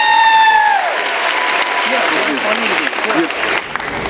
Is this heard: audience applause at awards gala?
yes